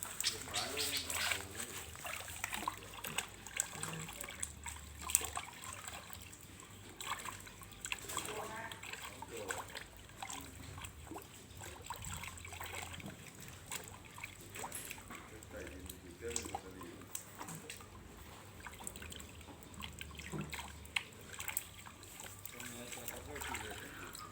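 Roots being washed by hand in several changes of water, with continuous splashing, trickling and sloshing close by under a person talking throughout.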